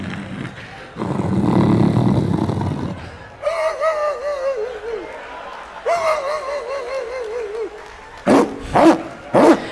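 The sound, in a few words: person imitating a barking dog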